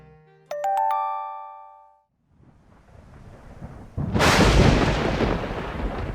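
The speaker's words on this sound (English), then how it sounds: "The thunder crashed louder and louder." Thunder crashes during a worsening storm, a deep rumbling roar that swells and then breaks into a loud, sustained crash after a few chiming tones and a quiet pause.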